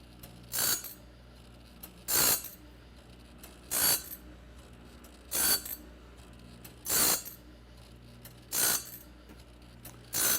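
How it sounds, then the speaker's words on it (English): TimberKing Talon sharpener grinding a saw blade, evenly spaced short bursts of grinding about every one and a half seconds with a faint mechanical hum between them, no talk. "We're showing you today how fine this machine works on the grinding."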